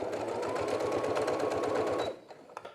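Sewing machine stitching forward, backward, then forward again; a steady, close, rapid mechanical whir runs for about two seconds, then stops abruptly and leaves faint clicks.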